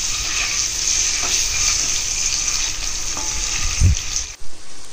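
Eggs fry in hot refined oil for egg biryani, a loud continuous crackling sizzle with a few spatters and a soft clunk near the end before the sizzle cuts off.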